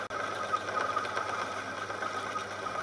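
Lathe turning a Lombardini diesel crankshaft at about 700 RPM: a steady, moderately faint mechanical whir with a constant tonal hum and slight rhythmic chatter from the cutting tool.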